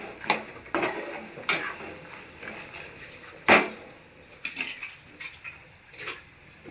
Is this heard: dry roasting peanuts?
yes